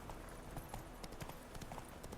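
Hooves of the horse Roach clip-clop steadily in The Witcher 3 video game, a soft repeating trot heard at moderate distance under faint background ambience.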